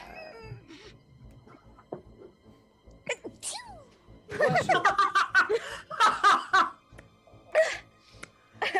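A sneeze breaks out amid scattered snickers and chuckles, followed by a burst of group laughter and some chatter among several people.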